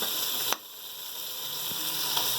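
Boiled meat for nihari goes into a pan over a low flame, landing with a soft thump before a steady, close frying sizzle carries on alone.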